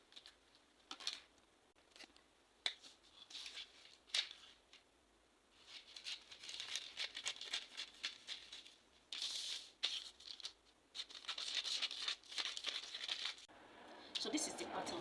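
Scissors cutting out a paper sewing pattern, with crisp snips, paper crinkling and rustling in bursts and short pauses throughout, close and fairly quiet.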